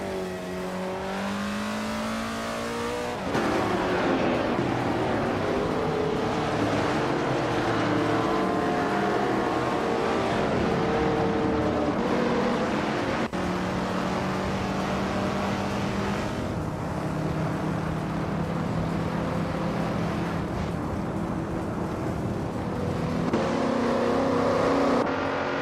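A 1969 Chevrolet Nova SS race car engine drones loud and continuous during a race, pitch climbing and dropping with shifts and throttle changes, other engines blending in, no voices.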